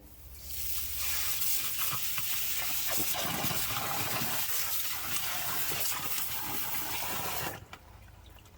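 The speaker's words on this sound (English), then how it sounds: "Let's put the garden hose in there and double check the outlet of this" Water from a garden hose pouring into a French drain, a loud, steady gushing rush that swells in quickly and runs for several seconds before cutting off, with a brief spoken word near the end.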